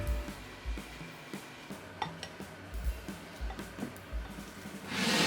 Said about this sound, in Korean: 먼저 밥에 노른자만 넣고 주걱을 세워서 밥을 골고루 섞어줍니다